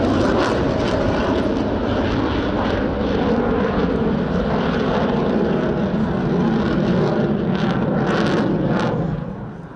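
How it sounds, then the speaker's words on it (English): A Romanian MiG-21 Lancer jet fighter flying a solo airshow display roars loudly and continuously, a broad rushing engine noise that swells and wavers before easing slightly at the end. "an impressive solo performance by a MiG-21 Lancer"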